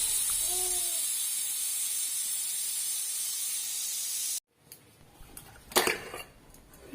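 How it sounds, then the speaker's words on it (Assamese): A pressure cooker on the stove, cooking meat pulao, gives a steady loud hiss of escaping steam for about four seconds, then cuts off abruptly, followed by faint clatter and a few brief knocks. "এতিয়া কুকাৰত এটা চিটি অহালৈ ৱেইট কৰিলোঁ।"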